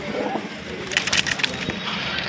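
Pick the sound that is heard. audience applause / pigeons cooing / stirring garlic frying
pigeons cooing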